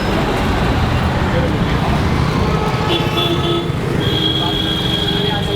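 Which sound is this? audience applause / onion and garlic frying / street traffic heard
street traffic heard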